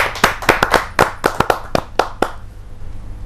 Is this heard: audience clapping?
yes